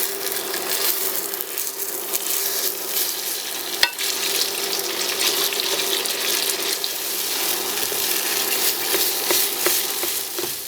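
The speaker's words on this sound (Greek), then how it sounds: "Αφού κάψει το λάδι ρίχνουμε την κολοκύθα μέσα." Steady, loud sizzling of food frying in hot oil, a continuous crackling hiss with occasional sharper pops throughout.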